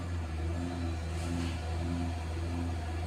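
A GAC GS3 with a low-power engine, running with a steady mid-pitched drone and low rumble at a held RPM, close and even, without talk.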